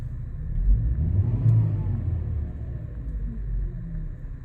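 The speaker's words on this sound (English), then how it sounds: "Can you hear that 5-cylinder" A 2002 Volvo S60 2.0T five-cylinder turbo petrol engine runs steadily nearby, a low, even rumble with a slight swell partway through.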